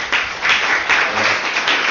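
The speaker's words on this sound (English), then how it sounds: "I'll clap it up." An audience claps at an amateur-night church comedy show, a dense, steady patter of hands from a full room that swells in several waves over two seconds.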